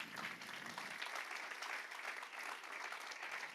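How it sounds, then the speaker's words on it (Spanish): A church congregation applauds during a sermon, a continuous, fairly soft wash of clapping from many hands in a reverberant hall. "Si lo crees, dale un aplauso al Señor."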